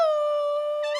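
A man imitates a dog's howl in a comedy sketch: one sustained, nasal wail about a second long, close and fairly loud, rising slightly at the end.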